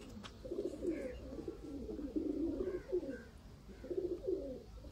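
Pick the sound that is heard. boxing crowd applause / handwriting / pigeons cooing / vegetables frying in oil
pigeons cooing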